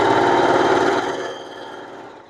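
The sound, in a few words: sewing machine stitching a curtain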